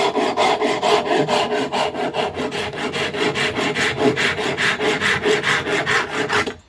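A hand saw cuts off a tapered, octagonal piece of beech, quick regular back-and-forth strokes, about four per second, rasping steadily and close until the piece drops free at the end.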